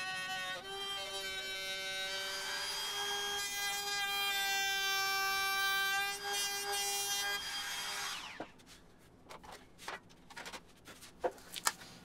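A handheld router trims the edge of a plywood cubby, whining loud and steady for about eight seconds before spinning down. Scattered knocks and shuffling handling noises follow.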